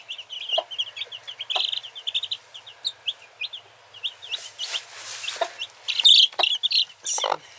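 Chicks cheep in rapid, high, thin peeps close by while the mother hen answers with softer clucks, the peeping repeated in busy, uneven bursts throughout.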